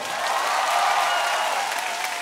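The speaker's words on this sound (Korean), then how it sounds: "박수 한번 주세요." A concert audience at a live band show applauds a performer, with a brief burst of steady, even clapping from a sizable crowd.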